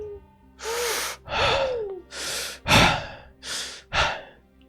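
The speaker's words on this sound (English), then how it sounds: "As the room fills with the sounds of snores and heavy breathing, we focus on that sound." Heavy snoring and breathing of sleeping griffins fill a room: six long, loud breathy swells with gasping inhalations and snorting exhales, some carrying a rising whistly tone, separated by short pauses.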